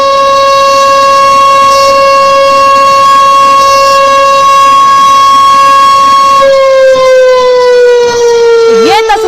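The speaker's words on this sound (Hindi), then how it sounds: "कैसे पाकिस्तान में यह सायरन बज रहा है, जरा सुनिए" A loud air raid siren in Pakistan wails steadily on one sustained pitch, then slides downward near the end as the tone winds down.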